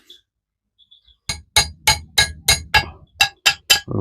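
A hammer strikes a wooden wedge into a broken hammer head about nine times in a quick, even rhythm, each blow a sharp, ringing knock close by, after a brief quiet start.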